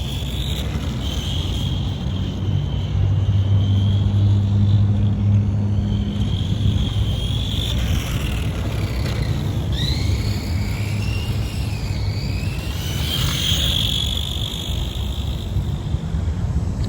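Electric motor of a 1991 Tamiya Ferrari F40 RC car whines steadily at high pitch over a constant low rumble, swooping up and down in pitch toward the end as it revs, with no voices.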